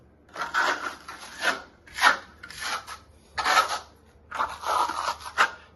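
A trowel spreading decorative grotto-texture plaster onto a wall, making repeated raspy scraping strokes in an uneven rhythm, close and clear with no talking.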